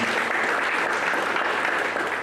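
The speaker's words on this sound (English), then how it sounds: "Let us welcome him by a hearty clap." A conference audience at a national polytechnic claps to welcome a speaker, a steady, even burst of hand clapping heard alone at moderate loudness for a couple of seconds.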